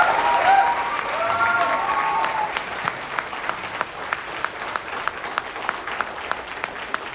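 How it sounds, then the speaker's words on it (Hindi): Audience applause at a Hindi film trailer launch, dense clapping from a crowd that thins into scattered, sharper individual claps toward the end. "इनके लिए ताली बजाइए"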